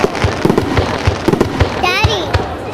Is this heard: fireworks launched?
yes